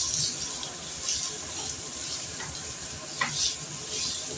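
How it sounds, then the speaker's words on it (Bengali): Diced potato with salt and turmeric, frying with tender winter bottle gourd in a pan, gives a steady close sizzle with a few faint scraping stirs and no voices. "ভালো করে ভেজে নিচ্ছি"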